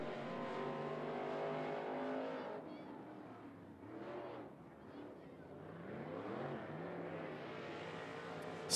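A limited late model race car on a qualifying lap at 411 Motor Speedway, its engine droning and fading as it circles the track, rising again as it returns, with an announcer's voice over it.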